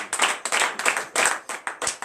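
A church congregation claps in acclamation during a morning prayer service in Benin, a few sharp bursts of hand claps in an uneven rhythm, close and fairly loud with no talk over them.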